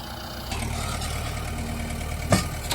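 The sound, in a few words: tractor engine running after restarting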